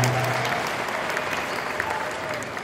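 An indoor audience at a parish anniversary ceremony applauds the authorities present, a dense, steady wash of clapping close and loud throughout, with a faint voice or two underneath.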